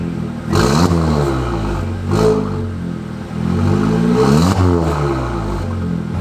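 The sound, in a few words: car engine revving with loud exhaust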